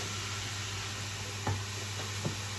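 Garlic, onions, rosemary, peppers, celery and carrots, all finely chopped, sizzle steadily in a pan, with a couple of faint knocks from stirring.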